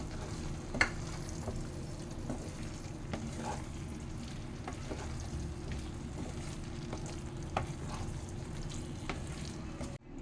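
A vegetarian labra curry with matar dal fritters is stirred in a pan, a quiet steady simmering sizzle broken by occasional spatula taps and scrapes.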